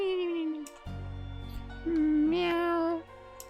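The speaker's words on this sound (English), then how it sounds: "Meow." A cat from a visual novel video game lets out two drawn-out meows, the second louder and slightly wavering, with a low hum underneath between them.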